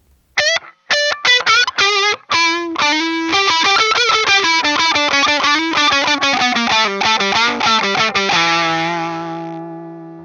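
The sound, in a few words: guitar pedal boost overdrive, less distorted setting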